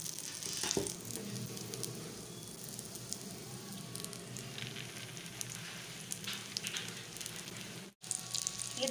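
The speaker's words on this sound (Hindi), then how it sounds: "5-6 कबाब जो है वो इस तेल में आराम से फ्राई हो जाएंगे।" Chicken kebabs frying in reused oil in a pan, a steady close sizzle and crackle with scattered pops, one brief break, and no talking.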